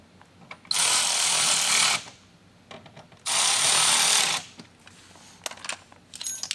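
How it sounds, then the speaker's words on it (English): A power driver buzzes in two sustained bursts of about a second each while snugging mud flap screws on a Rivian R1T, separated by quiet handling clicks and small rattles. "Now we're going to take our Phillips and get both of these snug."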